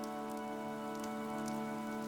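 Rain falls in Fire Emblem Three Houses as a dense steady hiss over a sustained tonal music bed, with no voices.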